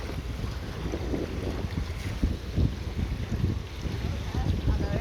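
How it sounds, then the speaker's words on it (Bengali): Strong wind buffeting the microphone on a river boat during net fishing, a continuous rough low rumble with gusty surges and water noise underneath, no clear speech. "প্রচুর বাতাস।"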